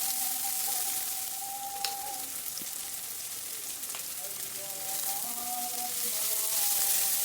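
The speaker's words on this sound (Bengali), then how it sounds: "আর এখানে পেঁয়াজ কলি, গাজর আর নতুন আলু কুচিয়ে নিয়েছি, এটাকে ভেজে নেব।" Chopped onion stalks, carrot and new potato frying in a pan, a steady soft sizzle that runs throughout with faint clinks and no talking.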